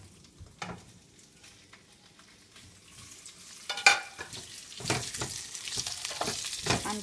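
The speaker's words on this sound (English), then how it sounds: "Then I'm going to saute this a little bit and get some onions." Onions and potatoes sautéing in a pan for a simple potato dish, quiet at first with faint scrapes, then a sudden louder clatter and a building, steady sizzle with repeated stirring strokes.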